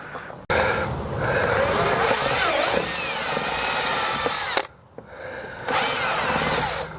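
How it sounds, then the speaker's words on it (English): A power drill whines loudly as a larger bit widens a hole, dropping out briefly near the end before revving up again. "he's going to use the larger drill bit to make it a little bigger"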